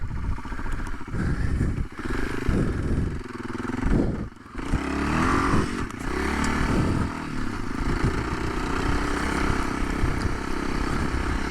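A Kawasaki Super Sherpa 250cc four-stroke dirt bike runs steadily with a continuous engine drone, which shifts as the rider works the throttle, plus a brief dip partway through. No one speaks.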